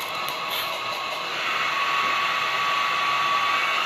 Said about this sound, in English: as you use your blow dryer or whatever you're using as a heat source